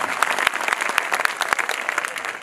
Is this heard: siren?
no